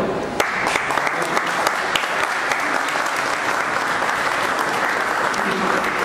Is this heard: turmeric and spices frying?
no